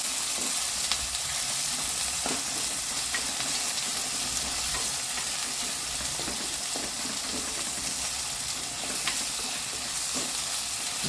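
Tomatoes sizzle and fry in a pan for a fish curry, a steady close hiss with faint stirring clinks running throughout and no talk.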